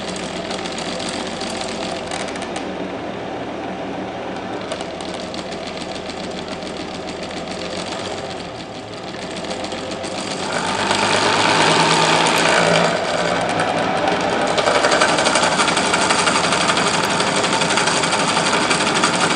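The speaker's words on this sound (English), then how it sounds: "Really rattles when you let it get close to that charging coil." A homemade pulse motor run at 28 volts rattles continuously beside its charging coil, a steady buzzing clatter that grows louder and harsher partway through as the rotor moves closer and starts hitting.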